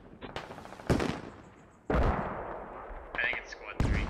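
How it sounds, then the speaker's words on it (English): Explosions and gunfire from mortar rounds in the military shooter Squad hit in several sharp, loud bursts with rumbling tails, while a voice talks over them. "Russian mortars coming out here."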